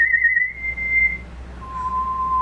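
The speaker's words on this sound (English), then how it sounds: "There goes the blue jay." A blue jay gives two long, steady whistled tones, one high and one lower after a pause, clear over quiet background hum.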